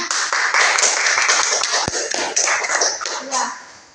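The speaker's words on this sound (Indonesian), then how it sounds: "Silakan tepuk tangan." Classroom of students clapping their hands in applause, a busy, sustained patter of many claps at close range with children's voices mixed in, fading toward the end.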